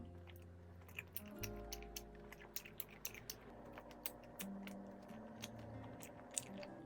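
Someone bites into and chews a cream cheese croffle at close range, with soft repeated crunches and moist chewing clicks spread through a quiet scene.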